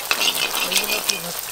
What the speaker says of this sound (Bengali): গরম তেল মাঝে মাঝে ফুচকার গায়ে এভাবে ছিটকে ছিটকে দিতে হবে